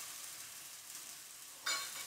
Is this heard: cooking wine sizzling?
yes